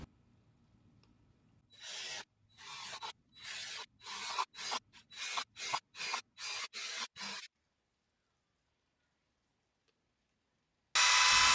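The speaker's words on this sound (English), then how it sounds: "drill a bunch of holes in the center container" About a dozen short, harsh bursts of a 1/4-inch drill bit boring into a plastic candy tray container, evenly spaced with brief pauses between, close and loud, then silence before one final burst.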